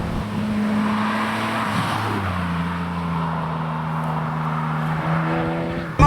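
A Ferrari 456 drives along narrow British B roads. Its engine drones steadily and loudly from inside the car, shifting pitch as it changes gear and then holding a smooth, even note. No one speaks.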